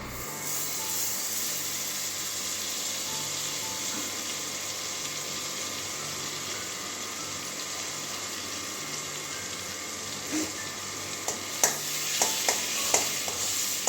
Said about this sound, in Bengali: কড়াইয়ের মধ্যে বাটার দিয়ে দিচ্ছি